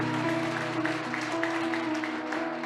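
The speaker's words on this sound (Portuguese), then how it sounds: "vamos dar uma salva de palmas para essas pessoas que pela primeira vez estão vindo" Steady applause from a crowd at a worship conference fills the space, continuous and even, with a sustained tonal hum underneath.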